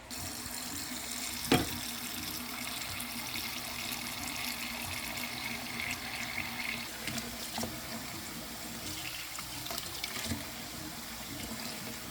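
Cold tap water runs steadily into a pot, a constant hissing splash with a brief clank near the start and no voices.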